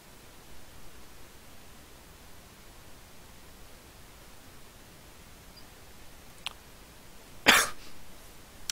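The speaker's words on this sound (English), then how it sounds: "Cough, cough." A single sharp cough rings out near the end of a long stretch of faint hiss and quiet background noise, preceded by a smaller throat noise, with no speech.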